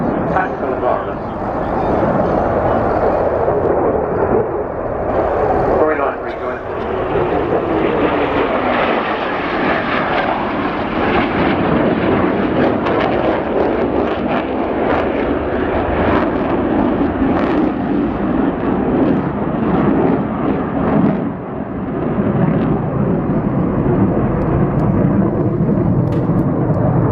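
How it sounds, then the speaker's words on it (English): Military jets flying in formation past an air show crowd, a loud sustained roar that sweeps through with a falling pitch, with a commentator's voice running underneath. "accelerating to 400 knots and back into back formation, which is a defensive formation of aircraft in the tactical environment"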